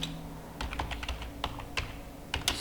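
Keystrokes on a computer keyboard while typing a git commit command, a quick irregular run of crisp clicks and taps at close range over a faint background hum.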